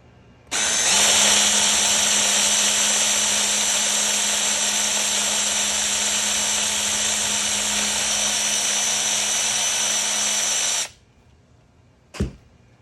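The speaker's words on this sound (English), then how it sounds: "So I'm going to try to drill a clean hole." A power drill whines at a constant high pitch for about ten seconds, drilling a hole in a plastic fermenting bucket, then stops, followed by a brief sharp knock.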